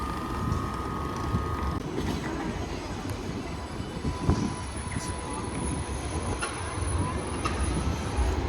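A packed tram rolls past at Haymarket with a steady rumble of wheels on rail, a few thin squeals from the wheels, and a moderately close, continuous pass.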